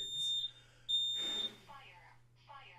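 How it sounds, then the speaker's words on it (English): Smoke detector false alarm beeping in short high-pitched bursts, two clear chirps separated by a pause, with people talking loudly over and between them. "False alarm with the smoke detector."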